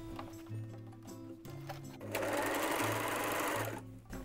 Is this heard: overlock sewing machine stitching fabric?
yes